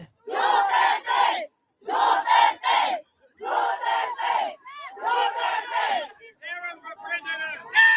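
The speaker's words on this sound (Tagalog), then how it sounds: "hiyawan na kagad ang taong bayan. Hiyawan na ang taga Melbourne." A Melbourne crowd cheers and chants in loud, rhythmic bursts for Vice President Sara Duterte, with repeated shouted phrases separated by short pauses and ragged yells near the end.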